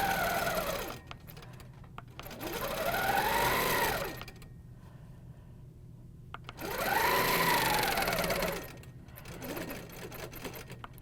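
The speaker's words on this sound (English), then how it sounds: "we're just going to double stitch across the top of there" A sewing machine double-stitches fabric across the top of a quilting piece, two loud sustained runs of rapid motor whir with rising and falling pitch, separated by quiet pauses, close and alone.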